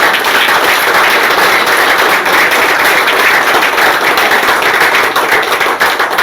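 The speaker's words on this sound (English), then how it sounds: "A huge round of applause for Satyam." A crowd applauds steadily and loudly at a book launch, dense clapping sustained throughout without voices.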